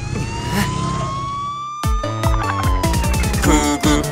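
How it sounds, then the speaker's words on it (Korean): A wailing ambulance siren in a children's cartoon sweeps up and down, loud and close, its warbling tones cycling rapidly over a background rumble. "구급차가 달려요."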